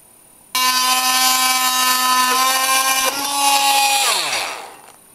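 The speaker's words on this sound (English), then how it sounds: "Now I'm going to be using my Milwaukee multi-tool here" A Milwaukee oscillating multi-tool starts abruptly and buzzes loudly and steadily as it cuts a wooden peg flush, its tone shifting briefly under load before winding down at the end.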